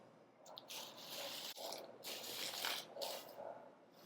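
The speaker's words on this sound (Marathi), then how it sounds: "आता आपण त्यामध्ये हे चपातीचे तुकडे घालूया." Chapati pieces drop into boiling jaggery water, giving a steady bubbling, squishing wet sizzle with soft splashes throughout, with one brief knock partway.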